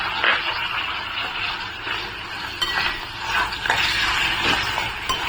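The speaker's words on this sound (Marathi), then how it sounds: "मळसर होईपर्यंत कांदा टोमॅटो आपण तेलामध्ये परतून घेणार आहोत" Sliced onion and tomato sauté in hot oil as a utensil stirs and scrapes the pan, giving a steady sizzle broken by repeated scraping sweeps, close and fairly loud, with no talking.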